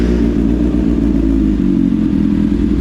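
A 2024 Kawasaki ZX6R sport motorcycle engine, already warmed up with the exhaust baffle in, rumbles close by, a deep steady throbbing idle with a rapid, lumpy exhaust beat.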